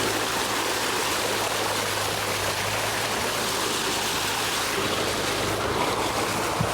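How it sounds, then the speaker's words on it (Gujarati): Water gushing out on a farm, a loud continuous rushing wash with a steady low hum running underneath, close and unbroken from start to finish. "આટલું પાણી કાઢે છે."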